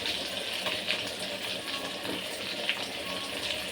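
Chicken pakora pieces fry in hot oil, giving a steady, dense hiss that bubbles on throughout without a break. The sound is close and continuous, with no voices over it.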